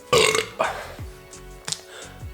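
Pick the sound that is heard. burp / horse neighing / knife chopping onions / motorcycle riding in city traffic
burp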